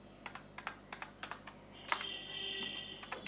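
Fingers tapping out code on a computer keyboard in short, quick keystrokes, faint and close, followed by a steadier run of typing under a faint hum, with no voices.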